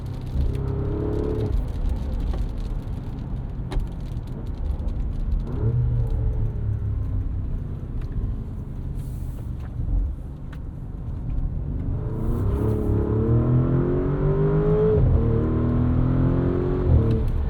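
2024 Porsche Cayenne S V8 SUV accelerating hard, a deep engine rumble with rising pitch sweeps as it climbs through gears, loud and sustained with cabin road noise underneath.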